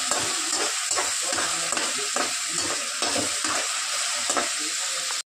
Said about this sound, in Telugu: బాగా వేగుతున్నాయి